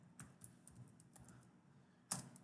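Soft, quiet keystrokes on a computer keyboard while writing C# code, a few scattered clicks with a sharper cluster near the end, no voices.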